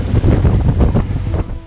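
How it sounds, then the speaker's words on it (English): Strong onshore wind of about 30 knots sweeps across a boat anchorage in Fiji, a loud, continuous buffeting roar with gusty surges and no voices. "The wind unexpectedly went onshore and our calm anchorage became dangerous."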